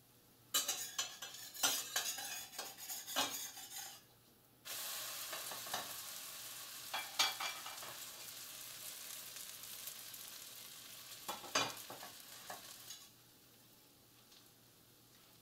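Buttermilk pancakes cook gently in a pan over low flame, a soft, faint sizzle under intermittent clinks and scrapes of a utensil against the pan, with quiet pauses between bursts.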